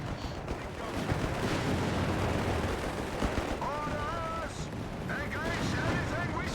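Gunfire hitting a bunker in Company of Heroes 3, a dense continuous rattle of small-arms shots over a busy battlefield din, with faint game voices briefly audible.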